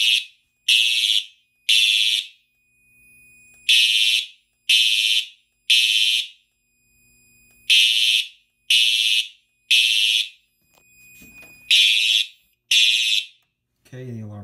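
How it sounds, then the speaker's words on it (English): A building fire alarm set off by pulling a Siemens MSM-K pull station during a system test, loud piercing tones pulsing in groups of three, with a short gap between groups, until a voice starts at the very end. "Okay, the alarm is silenced."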